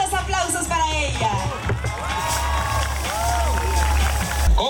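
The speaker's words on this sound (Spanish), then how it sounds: "Fuertes los aplausos para ella" A beauty pageant audience cheers and whoops loudly, a dense crowd roar that rises and falls with a voice speaking over amplified sound.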